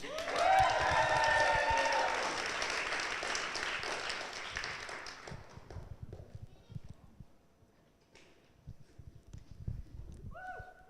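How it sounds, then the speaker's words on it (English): Applause and cheering at the Stickaid 2011 charity music hour, loud and dense for the first few seconds with whoops, then fading away into near quiet with only scattered claps and small sounds. "Let's keep the applause going"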